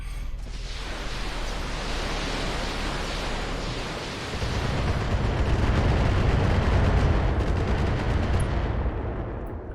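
In the Battletech mech combat game, turret fire batters the player's mech, making a dense roar of booming gunfire and explosions that swells louder midway and keeps rumbling heavily.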